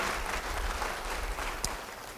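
A church congregation gathered for a harvest Sunday service claps together, a dense, steady wash of applause filling the room.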